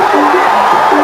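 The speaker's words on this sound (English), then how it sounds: "The crowd are loving it." Arena crowd at a kickboxing match between Branko Cikatic and Ernesto Hoost, a dense steady roar of cheering with rising whoops and yells, loud and continuous throughout.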